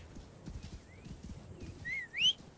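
Hooves of a camel walking in Assassin's Creed Origins, soft repeated footfalls in a loose rhythm, with faint bird-like chirps and a brief whistle near the end.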